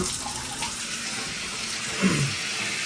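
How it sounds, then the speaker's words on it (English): Water runs steadily from a bathtub spout with a faulty diverter, a constant hiss and splash filling the background with a small gurgle near the end. "If you look at here, little bit water is coming."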